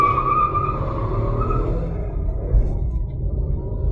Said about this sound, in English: I'll show you how this car loves to wheel spin when you turn it on sport mode